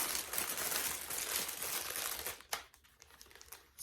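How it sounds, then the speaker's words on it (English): Plastic packaging of a cross-stitch kit crinkles loudly and close up for a couple of seconds, then gives a few softer, sparser rustles and crackles. "It's really crinkly, sorry guys."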